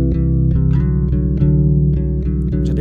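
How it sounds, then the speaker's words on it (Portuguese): Sustained chords in Lydian mode ring over a static pedal bass, with soft rhythmic accents pulsing roughly every half second; loud, close and without talk. "Esse é o som do lídio com o baixo parado"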